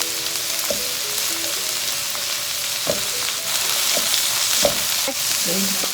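Garlic frying in hot oil, a loud, dense, hissing sizzle that runs throughout, with a few brief knocks of a utensil against the pan.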